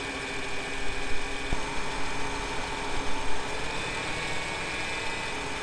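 A Ford F150 with a 4.9 engine idles after a blown head gasket repair, holding a steady, moderately loud rumble with a constant hum and slight pulsing.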